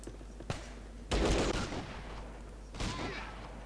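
Bursts of gunfire from the Fallout Tactics game: a single sharp shot, then a loud sustained volley lasting about a second and a half, and another burst near the end, with no talk.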